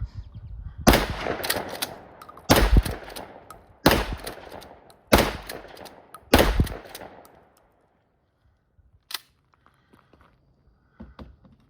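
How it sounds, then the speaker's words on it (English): A JC Higgins Model 20 12 gauge pump shotgun fires five loud, booming shots at a steady pace, each ringing out and echoing away outdoors, followed by a few faint clicks and handling sounds. "it's a 12 gauge pump shotgun"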